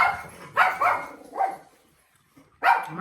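A dog barks indoors in several loud, close bursts, two quick barks, a shorter one, then a pause before another bark, with no talk.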